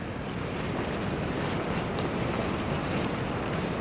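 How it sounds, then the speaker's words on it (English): Strong wind buffets a tarp and hammock at a campsite on the Ouachita Trail. It makes a continuous broadband roar with gusty flapping, close and loud throughout, and no one speaks. "the wind is just blowing this tarp all over the place, which is blowing my hammock all over the place"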